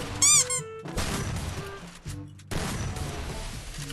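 Gunfire in the Free Fire mobile shooter crackles in quick bursts with short gaps, mixed with bright electronic squeaks and chirps from the game at the start.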